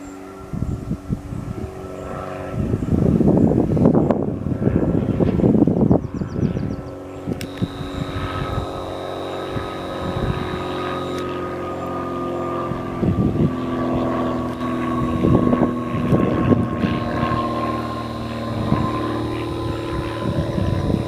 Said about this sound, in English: Ah, look, a plane coming over the field.